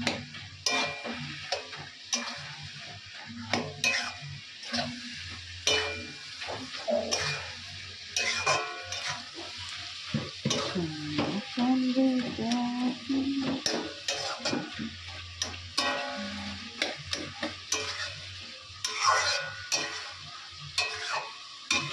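A pan of chorchori, a Bengali mixed vegetable dish, is stirred while it cooks, giving repeated scraping and clinking strokes over a soft frying sizzle, close by and irregular in rhythm.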